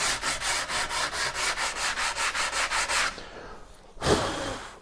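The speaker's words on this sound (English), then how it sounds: "you can put it at a 45 degrees angle to the edge here, and you can just trim the edge lightly like this." Light edge trimming on a wooden paddle at a 45-degree angle makes a quick, even run of about fourteen abrasive rasping strokes. A short pause follows, then one more louder stroke, close up with no talk.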